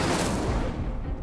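Incendio fire spell cast in the Hogwarts Legacy video game, a dense, loud burst of crackling, whooshing fire and booming magic effects lasting about a second.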